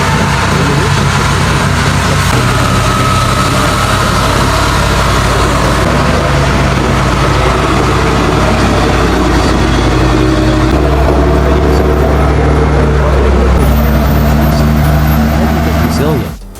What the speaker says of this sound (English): only the sound of the engine echoed, combined with the steady movement of the excavator